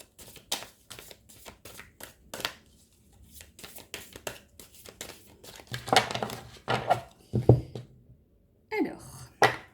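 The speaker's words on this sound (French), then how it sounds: "on bat les cartes de la triade" Tarot cards being shuffled by hand: a steady series of short papery riffles and slaps, close and moderately loud, with someone speaking French in between.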